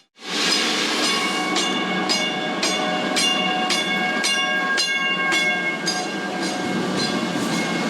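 Train running along railway tracks, a loud steady rumble with rhythmic clickety-clack beats as wheels pass over rail joints, alone without talk.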